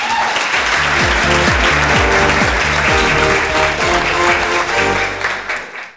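Loud, sustained studio audience applause greets actress and anchor Saba Faisal on the TV show Yeh Kya Hay, with upbeat music underneath; the clapping stays dense for about five seconds and then fades out.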